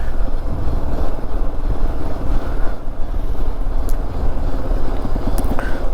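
A vehicle with failing brakes creeps down the Kallatti hill road in second gear, its engine drone a steady, loud, rumbling roar mixed with buffeting wind noise throughout.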